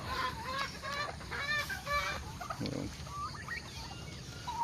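Native chickens cluck and call in a backyard, several short repeated clucks close by over steady outdoor background noise, with no talking.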